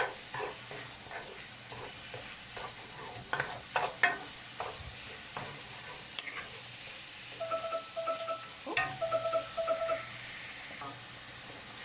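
Meat browns in hot oil in a pan for a budget lasagna cooked in a van, giving a steady low sizzle with occasional scraping stirs and clinks, close and moderately quiet.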